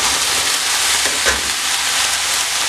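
Cooked drumstick pieces and jackfruit seeds are stirred into hot masala for a thoran, giving a steady close sizzle with a brief stirring scrape in the middle.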